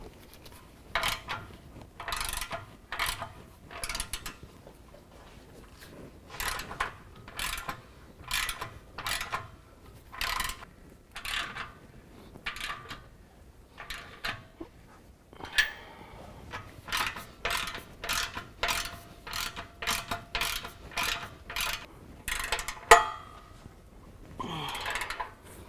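A hand ratchet clicks in quick repeated bursts while tightening two 2.5-inch, 15 mm exhaust outlet clamps on a Flowmaster Force II system, with crisp close strokes separated by short pauses.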